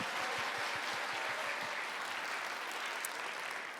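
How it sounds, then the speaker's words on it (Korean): Applause from a congregation at a graduation worship service, fairly quiet and distant, with a few distinct claps early before settling into a dense, even patter. "감사의 영광으로 박수를 올려드리겠습니다"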